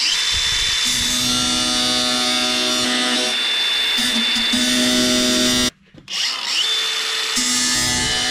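An angle grinder cuts through stubborn exhaust stack bolts on a Kenworth T800 truck, a loud steady high whine that holds for several seconds, cuts out briefly, then spins back up.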